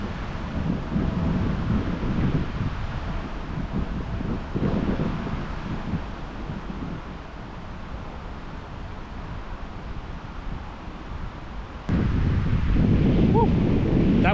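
Cold headwind buffeting a microphone while fishing outdoors, a steady loud rushing roar with gusty low rumble throughout, rising again sharply near the end.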